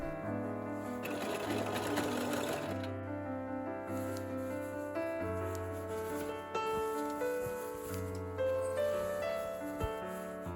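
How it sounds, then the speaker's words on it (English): Sewing machine stitching linen cotton fabric together to make a vintage-style apron, with a steady close mechanical whir that pauses and restarts in several runs throughout. "Now I carefully sew it together."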